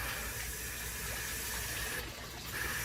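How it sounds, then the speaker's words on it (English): Hose water rushes steadily through the cooling system of a 1998 Lincoln Town Car during a reverse coolant flush, a loud continuous gushing that stays even throughout with no voices. "I'm gonna actually hook up the hose at the bottom and do a reverse flush as well"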